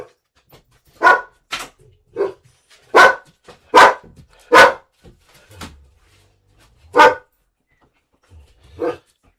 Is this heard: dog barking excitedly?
yes